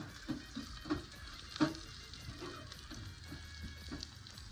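Oil sizzles steadily with spices frying as a tempering, a soft crackling hiss punctuated by a few sharper pops, with faint stirring sounds underneath.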